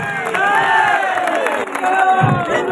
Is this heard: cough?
no